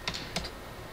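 Two quick bursts of keystrokes on a computer keyboard, close and fairly quiet, separated by a short pause, with a faint room hum underneath.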